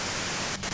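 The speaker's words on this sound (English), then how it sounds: "you can do it through the white noise" Steady hiss of white-noise static in the video game Disco Elysium, continuous and fairly loud, with a short dip and crackle near the end.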